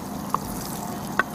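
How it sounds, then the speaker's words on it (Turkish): Pre-cooked minced meat is tipped into a hot pot on a TV cooking show, giving a soft steady sizzle with two small sharp pops. "Önceden hazırladığım kıyma etimizi tenceremize döküyorum."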